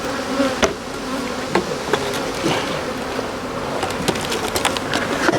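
Honey bees hum and buzz close by at a beehive during queen rearing, a dense continuous drone with scattered sharp clicks and taps of handling throughout.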